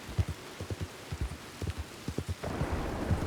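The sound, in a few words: rain pouring down in video game Red Dead Redemption 2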